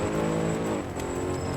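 A tuned Mercedes SLR races in a video game, with a loud, close, sustained engine and exhaust roar that dips briefly and then holds steady.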